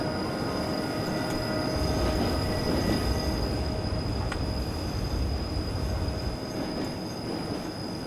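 A train rolls along the Albula Line in Train Simulator 2017, a continuous heavy rumble with faint steady wheel squeal tones and occasional rail clicks, no voices.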